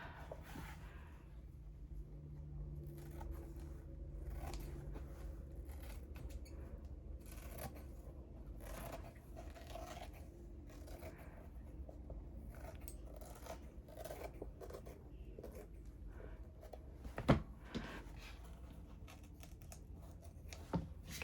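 Scissors cutting through a paper layer for a journal, with quiet, repeated snips and rustling paper at close range, plus one sharper click near the end.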